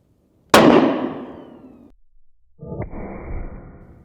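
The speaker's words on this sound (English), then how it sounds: "Well, it definitely hit the steel. I heard a ricochet, but it might not have gone all the way through." A .270 Winchester rifle round strikes 4 inches of pressure-treated lumber backed by a quarter inch of mild steel: one sharp, loud crack and metallic clang that rings out and decays, then a second rougher ricochet burst a beat later.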